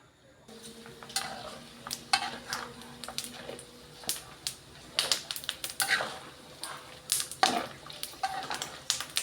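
Pork cracklings crackle and spit in hot oil as they fry a second time, with repeated sharp popping bursts and scraping stirs of a utensil against the pan, close and fairly loud.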